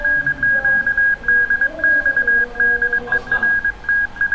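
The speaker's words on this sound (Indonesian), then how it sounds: "Kalau ini Morse semua nih" Rapid Morse code received over a radio: a steady high tone keyed in quick dots and dashes at roughly twenty words per minute, loud and continuous, with faint background chatter beneath.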